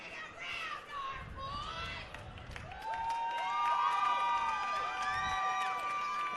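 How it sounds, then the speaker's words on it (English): A crowd at a high school football game cheers and shouts, with many overlapping high voices and children yelling, loud and sustained, swelling toward the end. "you can hear some interesting emotion being shown from this Falcon crowd"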